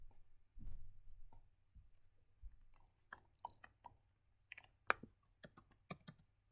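Sparse keystrokes on a computer keyboard while entering Linux terminal commands, faint and close, arriving as scattered clicks with a few quicker bursts toward the end, no talk.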